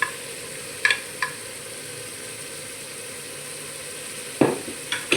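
Spices and meat for matar gosht frying in a pan, a low steady sizzle broken by a few sharp stirring knocks of a spoon against the pot, with no talking.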